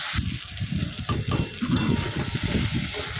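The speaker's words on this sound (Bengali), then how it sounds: "এবারে একটু আলুটা দিয়ে দিলাম, দিয়ে এবার একসাথে এটাকে আমি ভেজে কষিয়ে নেব" Chopped onion and potato frying together in a hot pan, a steady crackling sizzle broken by scraping stirs, close and continuous with no talking.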